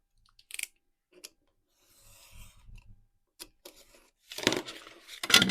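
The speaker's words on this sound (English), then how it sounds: "I'm just going to trim that down" Scissors trimming scraps of patchwork paper for a junk journal, close by and quiet: a few sharp crisp snips and rustles separated by pauses, with a louder cluster of cuts near the end.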